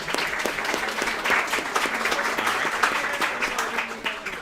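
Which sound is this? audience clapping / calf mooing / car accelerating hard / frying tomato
audience clapping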